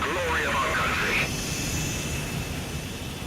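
Fighter jets in the video game Ace Combat roar steadily as they take off, a loud, continuous engine rush filling the whole moment, with a brief radio voice heard over it at the start.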